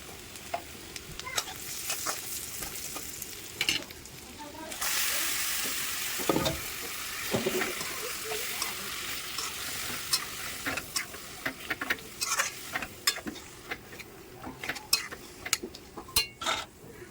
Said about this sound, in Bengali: আমি এখন মাংসটাও ঢেলে দেবো